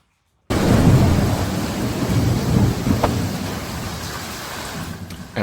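Thunderstorm with heavy rain: a dense, constant roar of rain with low rumbling thunder underneath, starting suddenly and staying loud, with no voices.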